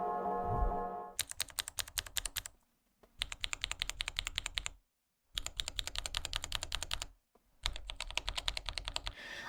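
Rapid typing on a mechanical keyboard with clicky switches, close and crisp, in four bursts of dense clacking separated by short silences.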